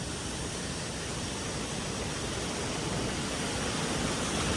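Fast-flowing water rushes steadily downhill through a channel after a landslide, a dense, continuous broadband roar without pause.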